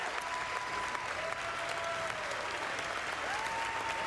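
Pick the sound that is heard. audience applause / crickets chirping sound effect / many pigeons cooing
audience applause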